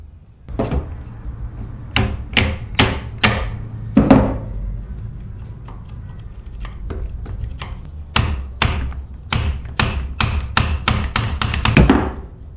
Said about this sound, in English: Alright, hammer time.